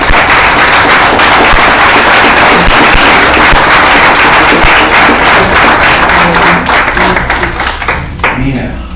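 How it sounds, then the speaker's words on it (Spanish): A church congregation gives loud, sustained applause, dense sharp clapping that holds steady for several seconds before thinning out at the end, with some voices mixed in. "¿Puedes darle un aplauso a Dios?"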